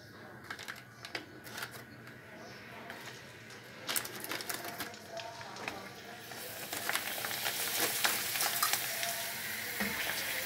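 Snacks frying in a pan of oil over lowered heat for an evening tea, a steady crackling sizzle that grows louder and denser in the second half, with occasional sharp clicks and scrapes.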